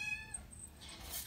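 A male Bombay domestic shorthair kitten gives one short, high, thin meow, close and fairly quiet, with a faint squeak at the very end.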